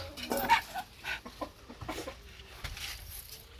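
Chickens clucking in a backyard coop area at evening, a few short bursts of clucks and calls at close range, moderately faint, with scattered farmyard movement and no talking.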